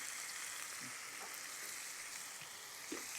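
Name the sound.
chicken with ginger garlic paste frying in pan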